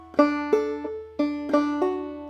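Clawhammer banjo plays a short phrase of about half a dozen bright plucked notes, close and clear, each ringing briefly before the next.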